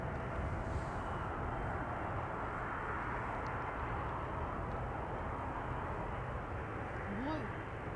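A British Airways jet bound for London Heathrow takes off from runway 09 at Amsterdam Schiphol, its engine roar a steady, moderately loud wash heard from a distance, with a brief whistling tone near the end.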